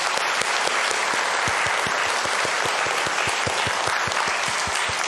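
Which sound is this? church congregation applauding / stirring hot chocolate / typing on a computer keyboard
church congregation applauding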